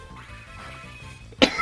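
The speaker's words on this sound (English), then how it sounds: "pardon the cough as well" A single sharp cough bursts out near the end, loud and close, after a stretch of quiet game music underneath.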